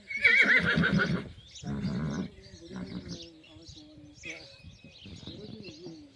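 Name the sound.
horse neighing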